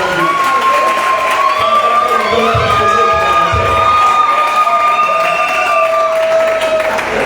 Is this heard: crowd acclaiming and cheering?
yes